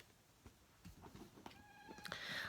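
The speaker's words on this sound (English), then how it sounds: "I know, Kitty, you're laying on my cards" A house cat meows faintly in an indoor room, rising toward the end amid soft shuffling and small background noises, with no one talking.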